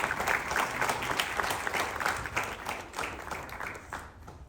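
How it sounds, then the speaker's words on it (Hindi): Applause for an organ donor's family at a ceremony, a sustained crowd clapping that stays fairly even at moderate distance, then tapers off toward the end. "जोरदार तालियों के साथ इनका आभार।"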